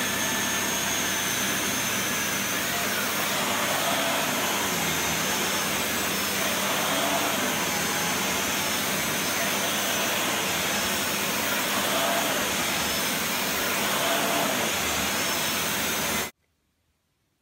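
A Dyson Cinetic Big Ball CY22 Animal vacuum cleaner runs with a loud, steady broadband roar and whine for about sixteen seconds, then cuts off abruptly into silence.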